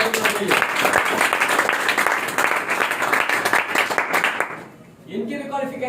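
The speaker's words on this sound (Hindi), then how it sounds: "मैं चाहता हूं इनके लिए जोरदार तालियां चाहिए" An audience applauds loudly for a speaker at an education seminar, dense clapping sustained for about four seconds before fading out, followed by a voice resuming talk.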